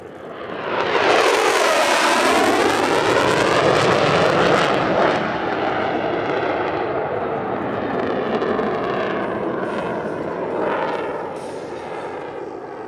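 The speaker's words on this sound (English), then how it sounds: "the aircraft will accelerate from very low speed to very high speed, with a fast pass at Mach" An aerobatic jet at the Radom Airshow 2023 accelerates from very low speed into a fast pass near Mach 0.94, a loud, sustained roar with a sweeping, shifting pitch that fades slightly as it passes.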